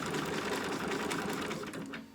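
Steady, close sewing machine drone as it stitches Velcro onto a mouse-costume dog outfit, running without pause for about two seconds before easing off at the end, with no talking.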